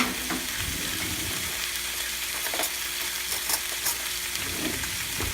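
Cumin being stirred into salsa in a hot pan for Atkins-style salsa cheese pork chops, giving a steady close sizzle with soft scraping stir strokes throughout and no talk.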